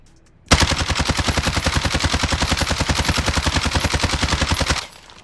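Sustained automatic fire from an AMAX assault rifle in the Warzone video game: a fast, steady stream of loud, evenly spaced shots lasting over four seconds, with no talking.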